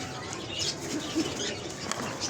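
Archangel pigeons flutter their wings while being caught by hand in a loft, soft quick flaps and rustles, faint and close, with a few brief bursts.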